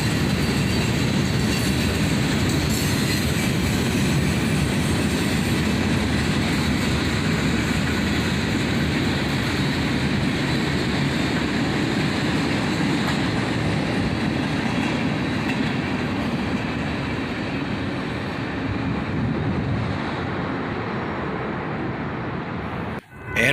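A long freight train rolls steadily past close by, its wagons rumbling and clattering on the rails with faint wheel squeal, the sound holding loud and even before cutting off at the end.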